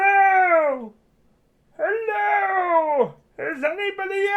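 A human voice imitates a single maggot screaming: three drawn-out, whiny, pitch-bending wails like a plaintive meow, each lasting about a second, separated by short silences and delivered close and moderately loud.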